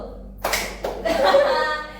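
A few sharp hand claps in a classroom clapping game, a couple of isolated claps followed by a quick burst, close by with voices around them.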